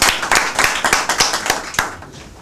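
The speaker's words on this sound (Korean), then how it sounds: "큰 박수 부탁드립니다" Audience at an academic talk on history textbooks gives a short burst of applause for an introduced professor, a modest group of hands clapping in an uneven, fairly close patter that fades out over a couple of seconds.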